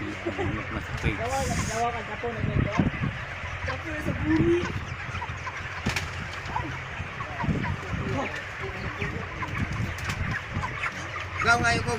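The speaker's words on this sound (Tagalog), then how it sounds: "Nilagay nila sa crates yung manok natin." Harvested chickens packed in crates on a Davao poultry farm cluck and squawk continuously in a dense, close chorus, with people talking over the flock.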